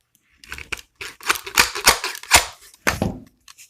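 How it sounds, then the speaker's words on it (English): Garden shears snapping shut on a burr during sharpening, a series of sharp metallic clicks and snips, several quick close cuts with pauses between them, loud and near. "I want it kind of loose for my first closing when I cut that burr off."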